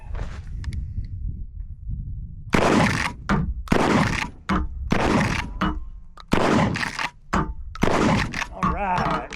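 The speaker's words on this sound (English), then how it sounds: "I got the last 5 shots. They're all slugs." Mossberg Maverick 88 shotgun firing slugs outdoors, several loud close booms spaced a second or so apart, each with a sharp crack and short echoing tail, a voice speaking briefly between shots.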